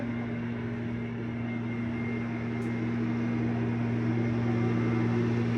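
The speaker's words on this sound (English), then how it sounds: "the leaf blower happening outside." A steady, droning engine roar runs throughout at constant loudness, a continuous mechanical whine with a low hum, like a leaf blower running nearby outdoors.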